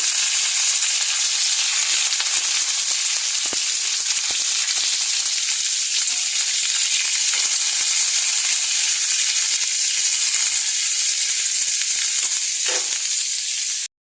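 Cauliflower pieces fry in hot oil, giving a steady, close, loud hiss and sizzle that continues unbroken, with faint crackles and no talking.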